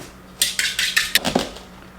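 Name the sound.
whisking eggs in a bowl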